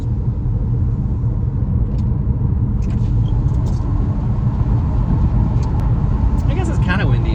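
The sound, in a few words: wind noise inside Pontiac G6 convertible driving with windows down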